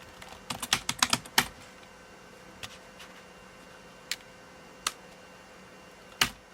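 Keystrokes on a computer keyboard while configuring a Pentium 133 PC running Japanese DOS/V and Windows 3.1: a quick flurry of clustered clicks near the start, then sparse single taps spaced a second or more apart, close and fairly quiet.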